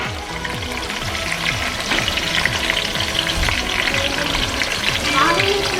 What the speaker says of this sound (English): Dump all your vegetables in there.